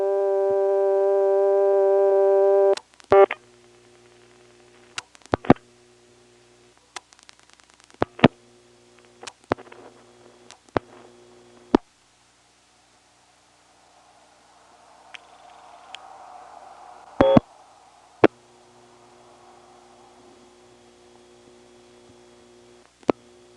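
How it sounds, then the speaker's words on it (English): A 1977 XY step telephone exchange holds the line with its ringback circuit: a steady buzzing tone for about three seconds, then a series of sharp relay clicks and brief ring bursts with quiet gaps and faint hiss between. "This, like the classic 660, holds your line and rings you, rather than actually calling you back."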